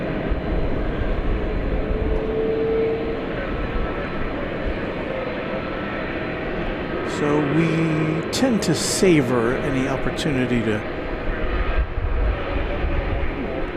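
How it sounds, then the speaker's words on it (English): At DFW Airport at night, a steady low roar of airplanes moving about the airfield runs throughout, with someone talking over it in the middle. "bring you these planes as they move about the airport."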